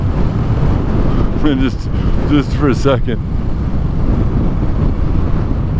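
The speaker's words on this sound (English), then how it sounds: "It's windy out here." Wind blowing outdoors along an abandoned stretch of Route 66 between Texas and California, a steady loud rush buffeting the microphone throughout, with a person speaking briefly over it.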